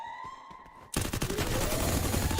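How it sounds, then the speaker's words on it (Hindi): Gunfire in a Free Fire battle-royale match: a loud burst of rapid shots erupts after a quiet opening and keeps rattling in dense, sustained volleys to the end. "शॉट"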